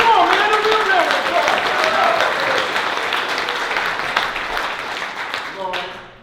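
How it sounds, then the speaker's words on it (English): Audience applause at a business event: a loud, dense wave of clapping with some cheering at the start, gradually thinning and fading, with a voice briefly audible near the end. "how about a big round of applause for all of you?"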